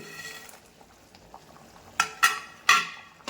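Fried dried fish tipped into a simmering fish curry, giving three sharp clattering knocks of a utensil against the pot near the end, loud and close over a faint low bubbling, with no speech.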